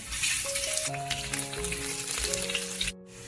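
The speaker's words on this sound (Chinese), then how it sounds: "重新起锅热油，把姜放进来煎香。" Hot oil sizzles and crackles steadily as something fries, with soft music playing underneath, then the sound cuts out suddenly near the end.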